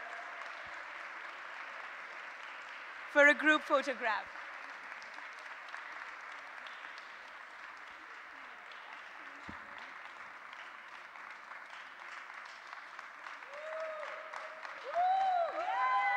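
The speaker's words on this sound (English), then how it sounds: "Please join me in giving this amazing set of speakers warmth, gratitude, and applause" A conference audience at a women's panel event in Portugal gives sustained applause for a group of speakers, a steady diffuse clapping that runs throughout at moderate level, with brief talk over a microphone and a short sharp noise along the way.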